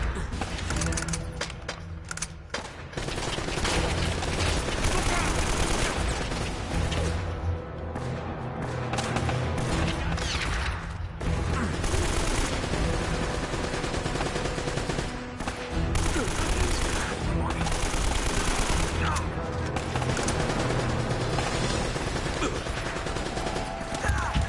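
Near-constant gunfire and firefights from Uncharted: Drake's Fortune fill the stretch, loud and dense, with shots layered over game noise and little letup.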